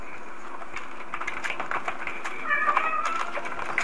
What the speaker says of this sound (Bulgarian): Да, и котката ми сега се чува